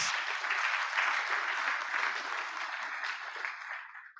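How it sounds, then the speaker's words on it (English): Audience applause at a 25th priestly anniversary celebration for a reverend father, a dense, steady wash of clapping that holds for about four seconds before tapering off at the end. "let's give her a round of applause."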